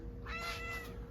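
A cat meows once, a drawn-out, wavering cry close by, against quiet background hiss.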